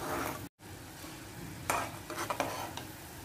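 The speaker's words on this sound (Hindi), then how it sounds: "इसे एक बार चला लेते हैं।" A spoon stirs bubbling sugar syrup with lemon juice in a pan on the stove for jalebi, a steady close hiss and simmer with a few scraping clinks against the pan, no talking.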